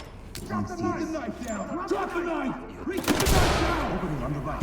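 Gunfire in the tactical shooter Ready or Not, a few sharp reports over game ambience with a player's voice talking throughout, the loudest burst landing toward the end.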